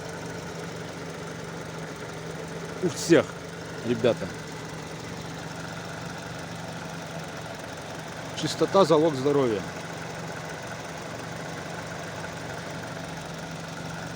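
A Hyundai i40 engine idles after a full rebuild with a re-sleeved block, giving a smooth, steady hum with no knocking, heard close in the engine bay while someone talks briefly over it.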